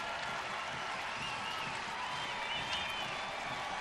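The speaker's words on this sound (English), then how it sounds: "This Easter Sunday crowd ready to celebrate if Chris Perez can finish it off" A baseball stadium crowd in the ninth inning of a Toronto at Cleveland game keeps up a steady, distant wash of cheering and scattered applause, with faint chatter mixed in.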